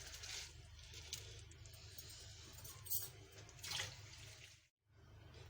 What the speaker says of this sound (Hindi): अब हम इसमें चावल डालेंगे।